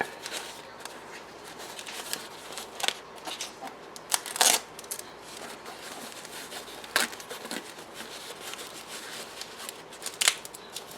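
A taped-up package of model cars is torn open, with sharp tape rips, crinkling wrap and handling noises coming in irregular bursts, close and fairly loud with no speech.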